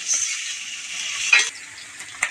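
Chopped onions sautéing in a pan give a steady, close hiss of frying, with two sharper scraping stirs of a spoon against the pan partway through and near the end.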